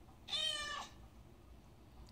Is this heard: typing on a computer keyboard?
no